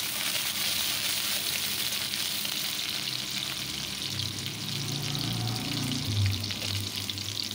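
Chopped onion hits hot oil in a wok and sizzles with a steady, bright frying hiss, close and continuous, with a faint stirring scrape toward the end.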